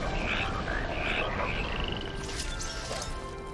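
Frogs croak repeatedly inside the Final Fantasy 13 video game, a bubbly chorus of calls over a dense, steady layer of game ambience and music, with a few sharp thuds partway through.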